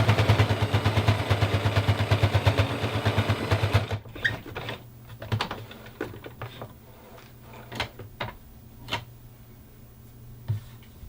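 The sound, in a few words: sewing a teddy bear's arm to its head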